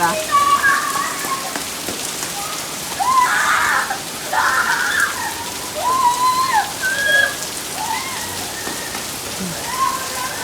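Heavy rain pours steadily on a surface, a dense constant hiss, with voices calling out intermittently over it.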